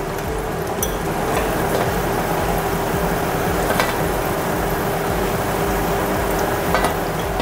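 Chhana jalebi, paneer jalebi, frying in hot oil: a steady, dense sizzle throughout with occasional faint clinks of a utensil, close and constant.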